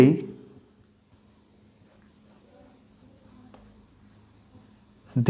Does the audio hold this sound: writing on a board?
yes